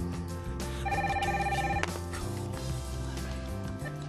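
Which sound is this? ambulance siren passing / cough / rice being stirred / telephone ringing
telephone ringing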